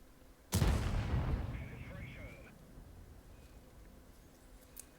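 A single loud tank cannon shot in World of Tanks booms out close, its heavy blast decaying over a couple of seconds with a faint metallic ring afterward.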